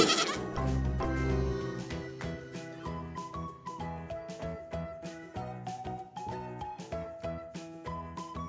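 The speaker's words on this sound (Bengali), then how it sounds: "পথে ছাগল ছানা ছাগল ছানা লাফিয়ে চলে" A young goat bleats over a bouncy, rhythmic musical backing, its calls mixed with plucked tones at moderate volume.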